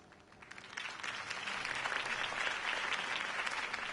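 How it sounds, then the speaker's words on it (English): A crowd in the Batman video game claps and cheers continuously, the applause swelling after a moment and holding at a steady, lively level. "could have heard that applause"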